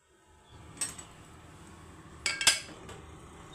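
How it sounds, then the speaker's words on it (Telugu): Lid set onto a cooking pot of lentils with green chillies and onions, a light metallic clink followed by a brighter clattering settle of the lid, close by over a faint simmering hiss. "ఇప్పుడు మూత పెట్టుకుని ఉడికించుకుందాం."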